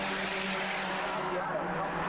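Stock race cars at Delaware Speedway in a side-by-side battle, their engines a steady, dense roar with droning tones, heard continuously under a commentator's voice.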